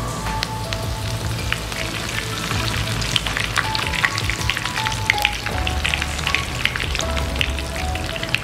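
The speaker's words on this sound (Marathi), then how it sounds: "आता यामध्ये घालूया एक 10-12 कढीपत्त्याची पाने." Curry leaves and cumin seeds sizzle and crackle steadily in hot oil for tempering, a dense close frying hiss with scattered pops throughout.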